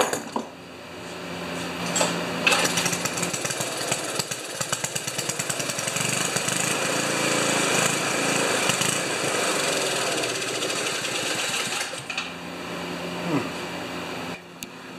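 An Ariens 2+2 snowblower engine, recently troubled by a clogged carburetor, runs loud and close with a harsh continuous roar, its pitch wavering slightly and dipping briefly toward the end.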